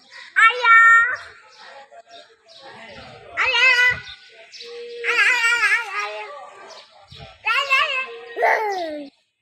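Someone talks to a young child; in the mix a few short, high tonal meows from a cat.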